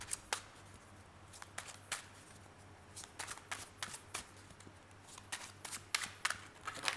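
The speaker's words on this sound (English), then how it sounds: "I haven't done this in so long that I forgot how to shuffle" Tarot cards being shuffled by hand, a quick run of crisp riffling bursts and soft slaps close up, with short pauses between the shuffles.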